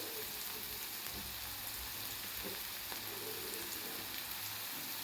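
Chopped onion sizzles and fries in a pan for a soybean pod curry, a steady soft crackling hiss throughout, quiet and close with no voices.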